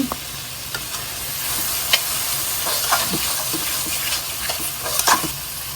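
Potatoes and cauliflower frying in hot oil with spices for a rohu fish curry, a steady broadband sizzle with intermittent stirring scrapes and crackles, close and alone without talk.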